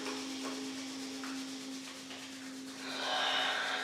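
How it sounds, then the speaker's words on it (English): Palms rub together during a yin yoga class, a soft, continuous dry friction that swells louder near the end, heard close over a faint steady background hum. "Bring the hands back together, begin rubbing them together."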